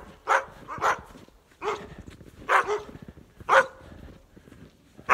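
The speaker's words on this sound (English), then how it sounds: "I can hear dogs" Rescued sled dogs close by, giving a series of short barks and whimpering yelps, about six bursts spaced irregularly with quiet gaps between them.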